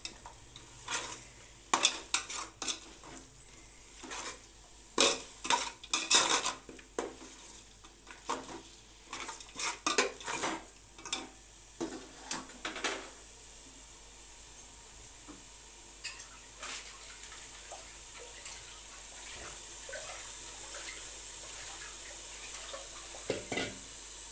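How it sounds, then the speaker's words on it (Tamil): Tomatoes for biryani sauté in a pan with a steady sizzle while a utensil scrapes and clanks in busy bursts of stirring, then settles into quieter frying; close, with no talking. "நல்லா வதக்கி விட்டுறலாம்."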